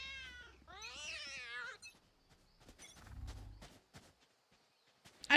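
A cat meows from a spray in the video game Valorant, a clear drawn-out meow up close, followed by quiet footsteps and faint game clicks.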